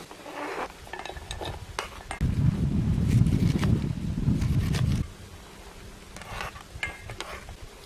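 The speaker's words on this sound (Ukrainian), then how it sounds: "перемішуємо її разом з маслом і продукт готовий до вживання" Boiled potatoes being stirred with butter in a pot at a cycling-trip campsite, a steady scraping, churning swirl lasting a few seconds amid outdoor wind noise, with lighter clinks before and after.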